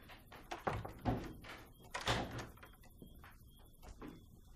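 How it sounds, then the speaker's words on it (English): Indoors, a door swings shut with a dull thunk, followed by a second softer knock and some faint shuffling, all fairly close and quiet. "Shut the door."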